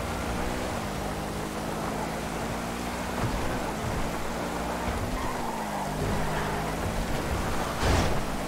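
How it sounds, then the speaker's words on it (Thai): Steady rain pours down in GTA V, a continuous hiss with a low engine hum running beneath it and a brief thump near the end. "ทุกคนดูอันนี้ฝนตกนะฮะ"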